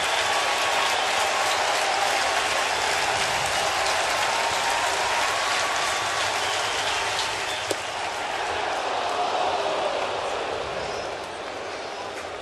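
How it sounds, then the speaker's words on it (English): A New York baseball crowd at a Braves–Mets game cheers and stands for Max Scherzer, a broad, continuous roar of voices and clapping that stays loud and fades a little toward the end. "And Scherzer brings this crowd to its feet in New York."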